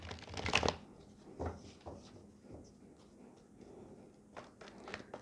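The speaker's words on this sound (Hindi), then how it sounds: "अच्छे से शफल कर लेंगे फिर देखेंगे।" Tarot cards being shuffled by hand, quiet and close, with a brisk riffle burst at the start followed by softer intermittent card flicks and handling sounds.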